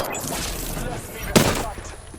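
Gunfire in the Apex Legends game strikes the player, a short burst of sharp impacts punctuated by one loud hit, mixed with in-game voice lines and background action.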